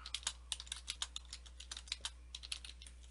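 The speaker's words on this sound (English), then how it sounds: "Type some stuff here." Rapid keystrokes on a computer keyboard come in quick, uneven bursts with short pauses, close and fairly quiet, with no voices.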